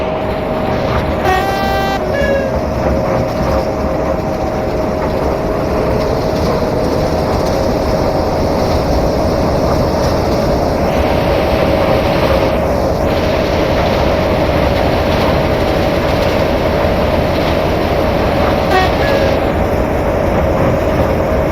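A video game SHG Class 07 train rumbles along steadily with a continuous loud roar and mechanical whine, brief horn-like tones sounding near the start and again later.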